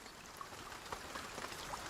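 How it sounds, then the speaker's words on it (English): Light rain weather effect in a game engine, a soft, steady patter of fine drops with faint scattered ticks, quiet and even throughout with no talk. "Light rain."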